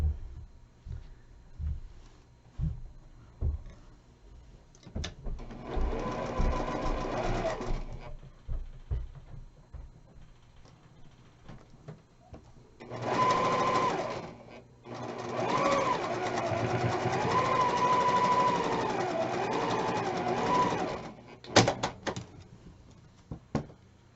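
Sewing machine joining quilt pieces for a patriotic pinwheel block, heard as loud bursts of fast needle clatter separated by pauses, quiet handling clicks and brief fabric rustles between the runs.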